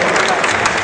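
Spectators at a Muay Thai gladiator event clap for the fighters in a short, loud, dense burst with a voice faintly mixed in.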